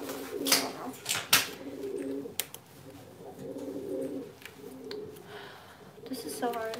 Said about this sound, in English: These birds are crazy